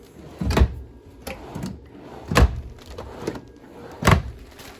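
Drawers in the bedroom of a 2016 Heartland Resort 42FLD RV being pulled open and pushed shut, giving three sharp, close wooden knocks with a lighter clack between them and a faint rustle underneath.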